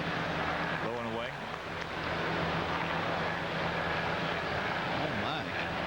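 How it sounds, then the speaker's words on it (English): Helicopters fly over Chicago's old Comiskey Park during its last game, giving a continuous rumbling, whooshing drone that stays steady throughout, with voices audible beneath it. "with all the helicopters flying around"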